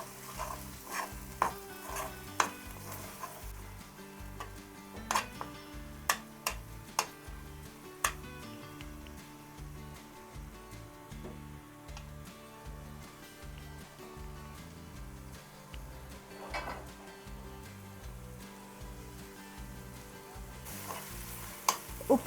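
Salt and chili powder being stirred into egg curry in a pan, with repeated scraping and tapping strokes of a spoon against the pan over a soft sizzle, fairly close and quiet.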